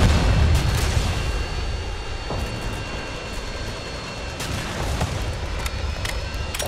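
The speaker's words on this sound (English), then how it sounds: "Friendly Predator missile inbound." Heavy booms and rumbling blasts from a Predator missile strike in Modern Warfare 2, a loud low explosion at the start followed by scattered cracks of gunfire and rolling battlefield rumble.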